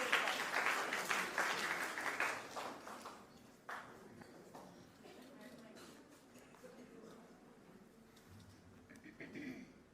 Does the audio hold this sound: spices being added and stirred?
no